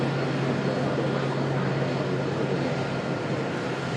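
A fixed-wing airliner's engines produce a steady, loud broadband roar with a constant low hum, heard close at an airport during plane spotting, with no talk over it.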